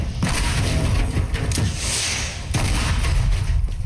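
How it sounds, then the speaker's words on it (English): A building is blown up in the video game Teardown, a loud, continuous booming rumble with thudding impacts and crumbling debris that rolls on for several seconds. "I'm just gonna blow this up and that will be the end of this video."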